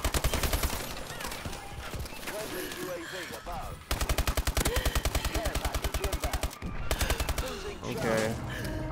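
Rapid automatic gunfire in a fast-paced shooter video game, loud and close, coming in long continuous bursts with a brief cutoff between them, while a voice talks underneath.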